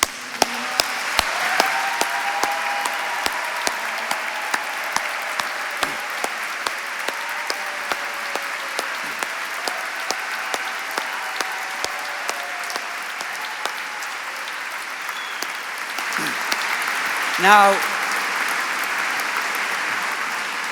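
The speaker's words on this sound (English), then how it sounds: "Please give them your thanks with a thunderous round of applause." Steady, sustained applause fills a large room at a gala awards dinner, a crowd clapping evenly for about twenty seconds, with a few louder claps and a brief voice near the end.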